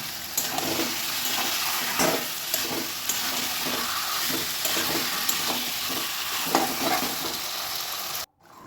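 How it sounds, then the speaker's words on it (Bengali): Spice paste for a chicken curry stir-fried in a wok, a steady loud sizzle with repeated scraping stirs roughly once a second, close up, ending abruptly. "আমি মশলাটা কিন্তু সব কিছু দিয়ে বেশ সুন্দর করে কষিয়ে নেব"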